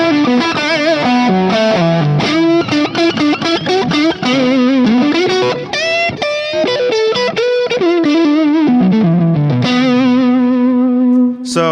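Electric guitar played through an amplifier setup with the bass above 9, a fat, thick main tone with effects, loud and sustained melodic lines alone without talk.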